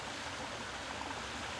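Poolgate Creek, a tributary of the Capilano, runs with a steady, even rush of flowing water, close and continuous with no voices.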